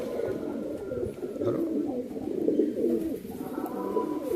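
Pilanka pigeons, a male and female pair, coo in a low, rolling, repeated murmur that continues steadily and fairly close, with faint background noise and no clear talking.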